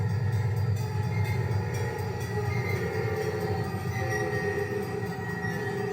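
Train rumbling past in the railway simulator game Trainz 2009, a steady, loud rolling drone with wheel and engine noise filling the whole stretch, no voices over it.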